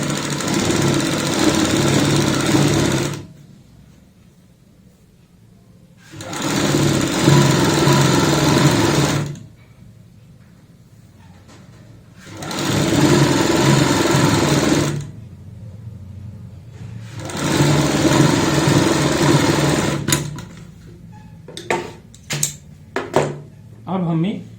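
Four bursts of a sewing machine running steadily stitch a folded fabric edge for a kurti neckline, close and loud, separated by quieter gaps, followed by scattered handling clicks and taps.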